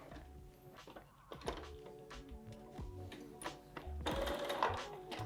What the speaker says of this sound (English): now you're going to sew around the perimeter of this mask using a 1/4 inch seam allowance.